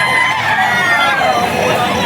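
Rooster crowing amid a busy pet market in Bocaue during a typhoon, the crow partly blended into loud, constant crowd chatter and market bustle with people talking nearby.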